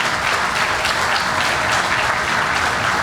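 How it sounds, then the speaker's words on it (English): A crowd applauds steadily at an airport concourse groundbreaking ceremony, many hands clapping in a dense, even wash from start to finish, with no voices over it. "Can you give them both a nice warm round of applause?"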